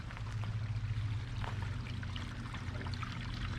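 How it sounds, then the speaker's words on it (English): Fresh or gray water drains from a Grand Design fifth wheel RV through a sewer hose, a steady close-up rushing trickle that holds constant throughout with no talking. "Just draining some fresh or gray water right now."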